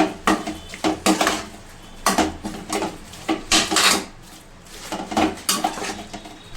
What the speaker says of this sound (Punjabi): ਹੁਣ ਅਸੀਂ ਮਿਕਸ ਕਰਾਂਗੇ ਸਬਜ਼ੀ ਨੂੰ